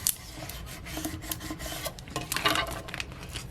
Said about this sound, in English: Using that scraper tool to really get in there.